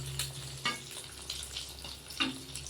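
Egg frying with salt in a pan on a work-site cooking setup, a steady low sizzle with a few brief scraping clicks from a knife used in place of a spoon.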